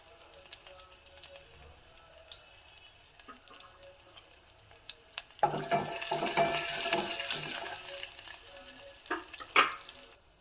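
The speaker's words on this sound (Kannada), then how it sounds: "ನೆಕ್ಸ್ಟು ಕರಿಬೇವು ಜೊತೆಗೆ ಇಂಗನ್ನು ಸಹ ಹಾಕ್ಕೋತಾ ಇದ್ದೀನಿ" Curry leaves and asafoetida dropped into hot oil for a Malnad-style capsicum dish give a loud, close sizzle and crackle that bursts in suddenly after a quiet stretch, with spattering pops over a steady frying hiss.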